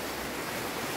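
Rain falling steadily outdoors, a dense, even wash of patter that stays constant and fairly loud throughout, with no voices.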